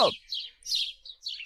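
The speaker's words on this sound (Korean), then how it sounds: "어디서 새 소리가 들리지 않아요?" A small bird chirps in a few quick, bright tweets in short bursts, close and clear, with no voices.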